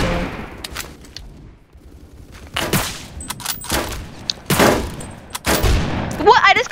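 Gunfire in the Roblox shooter Phantom Forces: scattered single shots and short bursts, sharp and fairly close, separated by quieter gaps, with a metallic clink near the end.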